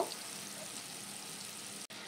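Marinated meat frying in hot oil in a kadai, a faint steady hiss of sizzling heard close with no talk, briefly cut off near the end.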